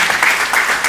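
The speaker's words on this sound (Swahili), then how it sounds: "tupige chairman makofi tafadhali" Applause from an audience at a Kikuyu-language public event, honouring the chairman: a dense, steady wash of many hands clapping, loud and close, with no talk over it.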